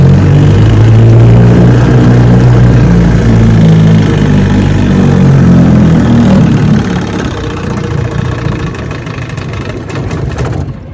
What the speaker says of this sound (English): Yes, sir. Reverse works just fine.